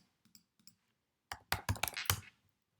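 Someone types on a computer keyboard into a web browser: a few light, sparse taps, then a quick run of louder, close keystrokes.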